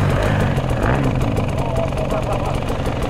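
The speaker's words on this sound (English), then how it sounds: "On the TPI, baby! Best bike ever made!" A KTM TPI two-stroke dirt bike engine revs and burbles close by in a pulsing, uneven rhythm, with a voice shouting over it.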